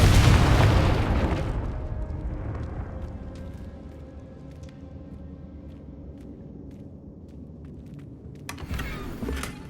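A Confringo blasting spell in Hogwarts Legacy detonates with a loud booming explosion at the start, its rumble decaying over several seconds, followed by faint debris clatter and a small crackle near the end.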